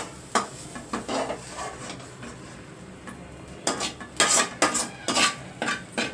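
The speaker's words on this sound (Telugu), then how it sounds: "నేను ఇది ఇప్పుడు ఒక బౌల్లోకి తీసేసుకుంటున్నాను" Dry-roasted mint leaves scraped from a pan into a bowl with a spoon, producing a series of quick scraping and clinking strokes, irregular and close, growing busier toward the end with no talking.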